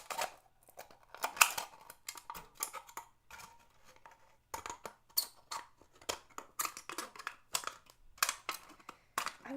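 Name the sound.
scissors cutting aluminum cans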